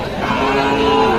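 A bull calf at the Raniganj cattle market gives a single loud, close, drawn-out moo that fills the whole moment.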